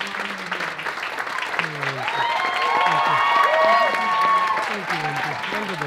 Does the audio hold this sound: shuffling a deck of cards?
no